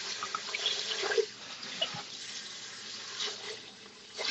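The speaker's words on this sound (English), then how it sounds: "And I like to have it clear water when I'm rinsing it." Tap water runs steadily into a sink while food is rinsed under it, a continuous close hiss with small splashing variations and no talking.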